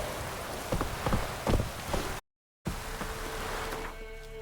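Rain falls in The Witcher 3 as a steady broadband hiss of drops on surfaces, with a few soft taps mixed in, cut by a brief moment of total silence before the wash of rain resumes.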